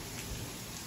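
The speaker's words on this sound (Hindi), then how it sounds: "बारिश तो अभी भी लगी रही है" Rain falling outside after a heavy downpour, a steady faint hiss of light rainfall heard from indoors with no other sounds.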